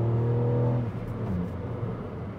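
A Ford Fiesta ST Mk8 with a turbocharged three-cylinder engine pulls hard from inside the cabin, giving a loud, steady buzzing drone that cuts off and settles into a lower, rougher rumble.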